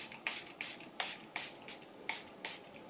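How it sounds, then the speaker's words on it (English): Milani Make It Last setting spray misted in a quick series of about seven short, close hissing bursts, evenly spaced, with no voices. "Make It Last setting spray"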